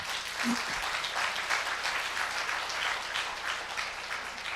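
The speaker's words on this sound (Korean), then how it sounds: "장군님께 큰 박수 부탁드립니다" Audience at an international forum keynote applauds for a general, a broad, sustained wave of clapping that stays even and fairly loud throughout, with no one speaking over it.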